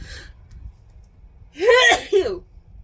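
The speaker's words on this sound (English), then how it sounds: "I'm going to sneeze." A single loud sneeze close by, with a sharp intake of breath before it, following quiet background.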